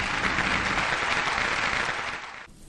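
A crowd applauds at a farewell for a departing colleague, a dense steady wash of clapping that fades toward the end and cuts off abruptly.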